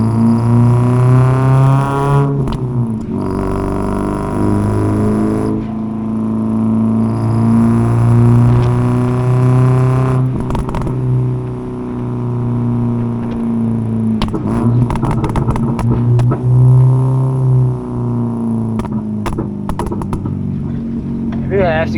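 Ford Figo engine revving on the road in third gear, fitted with a new muffler: a loud, steady harmonic drone that rises and dips through the clip, with brief lifts in pitch and some crackle near the end.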